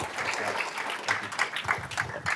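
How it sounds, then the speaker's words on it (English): A brief burst of audience applause at a sustainability summit, with scattered claps from a modest crowd and a voice heard briefly among them. "Round of applause for Wes Geisenberger from Hedera Foundation"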